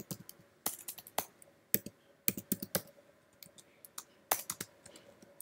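Close, quiet keystrokes as a shell command is typed on a computer keyboard, coming in uneven bursts of clicks with short pauses and no talking.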